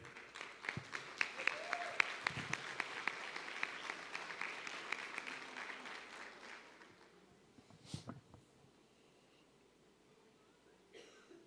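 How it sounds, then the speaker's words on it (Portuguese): A church congregation claps at a family service, a dense, steady patter of many hands that holds for several seconds, then fades to scattered claps, a cough and quiet room noise. "Queria que vocês recebessem com uma salva de palmas o Zé Henrique e a Andréia."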